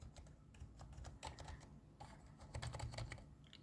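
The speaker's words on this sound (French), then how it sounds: "Donc j'ai beau appuyer sur sup, comme le clavier n'est pas commandé." Keys on a USB computer keyboard are pressed repeatedly on a PC built on an ERYING M-ATX board with an i7-11800H, close-up clusters of quick plastic clicks and taps in uneven bursts, with no one talking.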